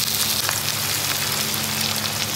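Onions frying in hot oil in a kitchen pan, giving a steady, close sizzle that crackles constantly throughout with no break.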